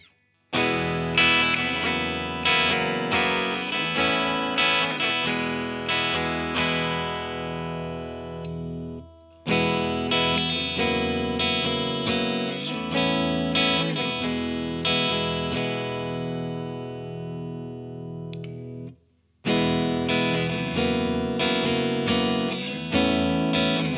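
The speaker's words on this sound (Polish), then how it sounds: "Posłuchajmy jak brzmi ta gitara w każdej z tych pozycji." Vintage V100MWR electric guitar with a Wilkinson mini humbucker, played through effects in three loud strummed passages, one per pickup switch position, separated by brief silences, with no talking.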